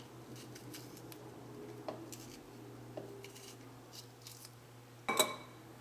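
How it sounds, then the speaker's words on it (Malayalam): Green chilies are cut into two pieces while making ripe mango kalan for Onam: soft, faint snips come quietly at first, then one sharper, louder cut near the end, with no talking. "പച്ചമുളക് 2 പീസായിട്ട് ഇങ്ങനെ കട്ട് ചെയ്തിട്ട് ചേർക്കാം."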